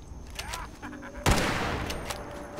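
A single sharp gunshot from a firearm in the video game Fallout 4 cracks out loudly partway through, followed by a decaying echo over faint ambient game sound.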